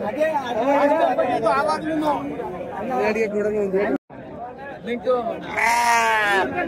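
Sheep bleat loudly and repeatedly nearby at a weekly sheep and goat market, wavering calls overlapping with people talking, one sharp bleat near the end.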